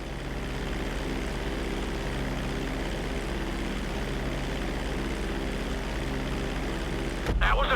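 A propeller airplane flies in GTA 5 flight school with a steady, droning engine hum that stays even and close throughout and swells slightly at the very end.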